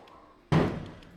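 A car door on a 1954 Chevrolet Bel Air rat rod slams shut once, a loud, close metallic thud with a brief ringing decay over faint shop background noise.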